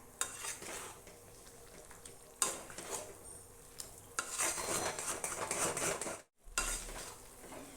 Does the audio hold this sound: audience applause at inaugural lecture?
no